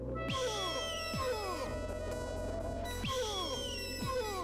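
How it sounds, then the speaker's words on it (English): Swooping, shrieking cries from attacking birds in the 1994 Bullfrog Productions video game Magic Carpet, repeated descending calls in bursts over a steady loud low game drone. "Birds are attacking me"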